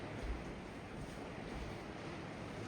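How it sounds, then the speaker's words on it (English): Heavy rain pours outside a shed, a faint, even hiss that continues without a break and carries a soft low rumble underneath. "It is pouring outside. Do you hear it?"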